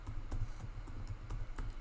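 Fingers tapping at a moderate, uneven pace on a computer keyboard, with close, soft clicks and no voices.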